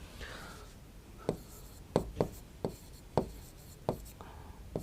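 Chalk or marker writing on a board during a Hindi lesson, a series of short sharp taps and scratches at irregular intervals, close and fairly quiet, with faint background murmur.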